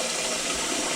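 Water poured from a tap into a pot of rinsed rice, a steady, close rushing splash with no talking.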